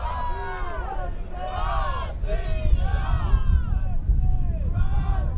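Crowd chanting in rhythmic waves at a PSP Galveston 2011 paintball tournament final between Dynasty and Boston Red Legion, loud massed voices rising and falling over a rumbling arena background, with commentators talking over it.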